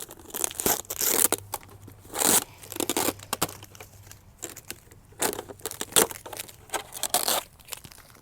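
Tape torn off a plastic seed container, a series of sharp ripping and crinkling bursts in irregular spurts, close and fairly loud, with no talk.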